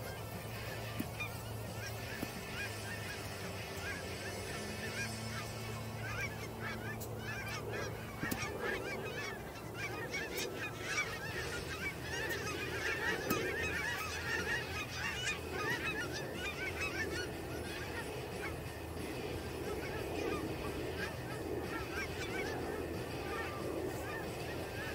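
A large flock of geese honks continuously at a golf course tee box, a dense overlapping chorus lasting throughout, with occasional voices talking underneath.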